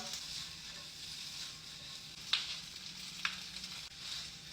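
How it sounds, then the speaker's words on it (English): Gnocchi crisp in a hot pan with a soft, steady sizzle and a couple of sharp pops, fairly quiet and without talk. "I like them to be a little crispy, so I'm gonna fry them first."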